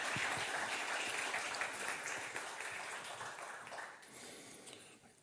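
Audience applause at a startup demo day after a pitch, a dense steady clapping that fades gradually toward the end of the five seconds.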